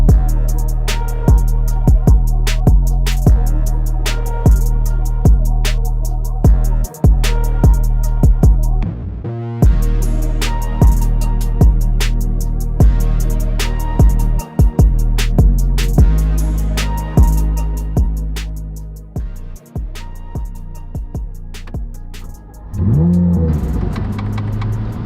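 A Chevrolet Corvette Z06 engine pulls hard while driving, revving up repeatedly through a series of rapid gear changes with loud, close rising engine notes and brief dips between shifts.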